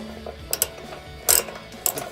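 A 19mm socket ratchet tightens the front bumper bolts on a Jeep JK during an Oedro bumper install, giving a few short, close bursts of metallic ratcheting clicks with quiet gaps between them.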